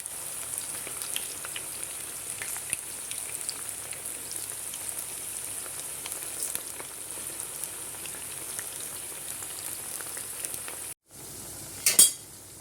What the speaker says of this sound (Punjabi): ਇਹਨਾਂ ਨੂੰ ਨਾ ਬਿਨਾ ਮਸਾਲਾ ਭਰੇ ਤੁਸੀਂ ਫਰਾਈ ਕਰਨਾ ਠੀਕ ਹੈ ਮਸਾਲਾ ਬਾਅਦ ਚ ਭਰਾਂਗੇ ਖਾਲੀ ਫਰਾਈ ਕਰਨੇ ਆਪਾਂ